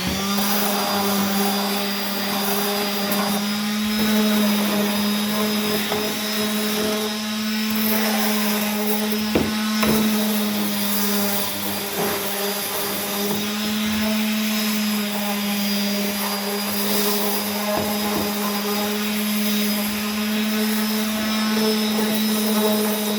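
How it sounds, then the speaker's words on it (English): A handheld Dremel rotary tool fitted with a small diamond cutter bit runs at steady high speed while cutting fiberglass, a continuous tonal whine with harmonics that holds throughout, with slight load changes as the bit bites. "So that's a Dremel with a little diamond cutter end on the end there."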